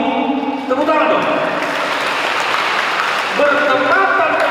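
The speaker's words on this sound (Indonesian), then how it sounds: "Terima kasih untuk kaum ibu. Tepuk tangan dong." A church audience at a Christmas celebration for mothers claps, steady applause blending with voices and a sustained tone from music or singing.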